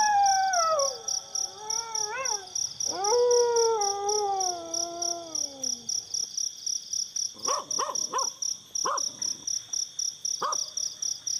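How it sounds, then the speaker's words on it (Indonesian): Wild dogs howl in the distance on a quiet morning, long wavering cries rising and falling over several seconds, followed by a few short yelps, all over a steady chorus of chirping crickets. "di kejauhan, lolongan anjing liar terdengar memecah kesunyian pagi"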